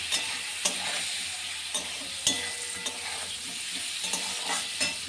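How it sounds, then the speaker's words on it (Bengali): Sliced bitter gourd sizzles as it fries in a pan, with a steady crackling hiss broken by periodic scrapes and knocks of a spatula stirring it, close and moderately loud with no talking. "চলো একটু ভাজা হয়ে যাক"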